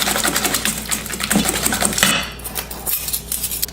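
An electric mixer with a whisk whirs and rattles against a bowl while whipping fruit tart filling, a busy, clattering buzz that shifts in tone partway through, heard close with no voices.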